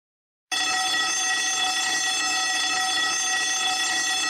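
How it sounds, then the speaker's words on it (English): A fire alarm, set off by a pulled switch, suddenly starts after half a second of silence and then rings on as a loud, continuous, buzzing electronic tone without a break. "It's the fire alarm that goes off."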